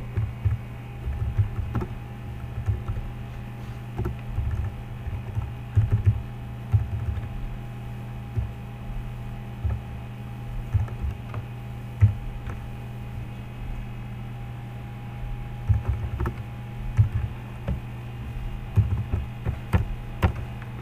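Soft keyboard typing during coding work, a run of quiet irregular keystrokes in uneven bursts over a steady low electrical hum, with no one talking.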